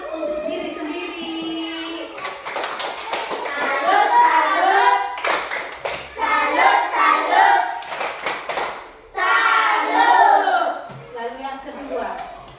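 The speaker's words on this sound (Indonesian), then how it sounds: "tepuk salut untuk diri sendiri" A classroom of students performs a rhythmic clapping chant, bursts of sharp, patterned hand claps alternating with children's chanting voices and a little laughter, close and lively.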